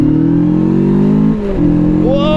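A Rieju Aventura 500 motorcycle engine roars at full throttle from close by, its pitch holding high, dipping briefly at a gear change, then climbing again sharply.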